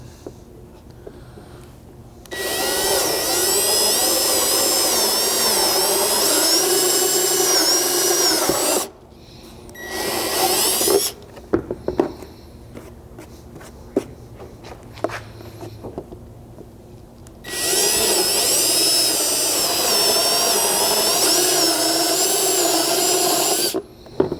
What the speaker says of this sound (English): we're simply going to be using a step drill bit